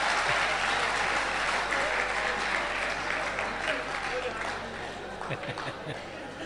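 An audience at a Hindi poetry recital breaks into dense, sustained applause that fills the hall, loud and steady before easing slightly toward the end.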